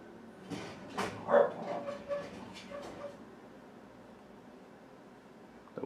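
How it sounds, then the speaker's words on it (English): A small dog barks several times in a short burst of sharp, yappy barks, close but fairly quiet, then falls silent while a room hums faintly. "That was my little dog."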